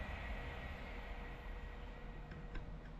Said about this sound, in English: there is a train coming towards us on the line